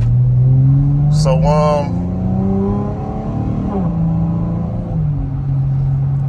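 A 3.6L V6 Pentastar engine revs gently in snowy conditions, short of full throttle. A low rumble rises and falls beneath someone talking close by, with a brief higher whine partway through.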